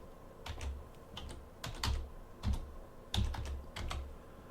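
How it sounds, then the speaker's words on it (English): Taps on an Android phone's on-screen keyboard come in short irregular bursts, crisp clicking keystrokes in small clusters, close and fairly quiet, with no voices over them. "I'm just going to type Classroom."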